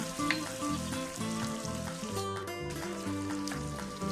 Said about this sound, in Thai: ผัดให้ปรุงรสให้มันเข้าเนื้อกันนะคะ